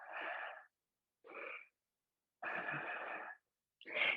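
Deep breaths during a hips-and-hamstrings yoga stretch, heard as four close, loud airy bursts, inhales and exhales separated by short silences.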